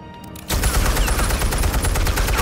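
Dense, continuous gunfire in the Batman Telltale Series video game erupts after a half-second lead-in and stays loud and sustained, a rapid unbroken burst of shots.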